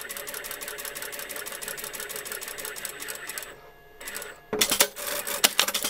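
A sewing machine stitches a garment sleeve with a steady, close mechanical whir for several seconds, pauses briefly, then restarts more loudly with a rougher, bumpier running sound.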